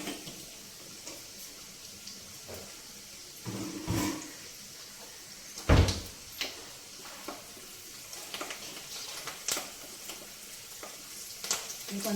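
Mustard seeds and cumin fry in a pan for a carrot and dry prawn curry. A soft, steady sizzle runs underneath, broken by faint pops and crackles and one louder clatter near the middle, with no talking.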